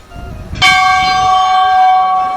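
A temple bell at the Golu Devta temple in Uttarakhand is struck once, close and loud, and its bright metallic tone rings on and slowly fades.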